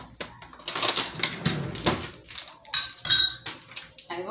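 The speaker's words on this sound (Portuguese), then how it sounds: "Vou pegar uma colher." A spoon is picked out from among dishes in a kitchen, giving a close series of bright metallic clinks and clatters of cutlery against tableware, irregular and quick, with one sharp ring near the end.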